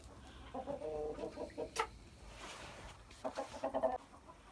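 Hens in a henhouse, several birds clucking close by in short rhythmic bursts, with a pause between two clusters and a brief sharper call in the middle, no talking over them.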